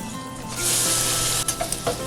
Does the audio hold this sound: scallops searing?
yes